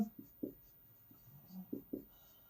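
Handwriting during a math lesson: several short, quiet scratching strokes in quick bursts, close and soft, with brief pauses between them and no speech.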